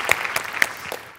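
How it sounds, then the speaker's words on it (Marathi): Short burst of audience applause for a comedy skit on a Marathi stage show, a few claps standing out over a brief, fading ripple. "जोरदार टाळ्या"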